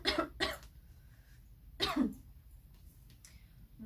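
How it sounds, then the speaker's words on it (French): A person coughs and clears their throat in a few short bursts, close and fairly loud, with quiet pauses between. "si je tousse c'est que c'est vrai"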